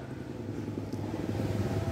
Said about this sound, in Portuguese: A moto tá com o motor ruim, fumaçando.